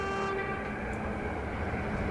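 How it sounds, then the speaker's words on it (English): A FLIRT passenger train in the Train Simulator game passes by with a steady loud rolling roar and a sustained horn-like tone, close and continuous throughout. "It's a lovely train."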